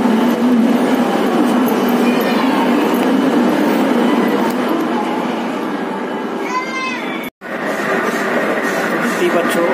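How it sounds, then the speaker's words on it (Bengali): A Kolkata metro train rumbles steadily at a station platform, its loud continuous low roar and squealing brakes filling the space while children and other people talk nearby, with a short drop-out near the end. "মেট্রোতে উঠবো এবার, স্টেশন চলে এসছে।"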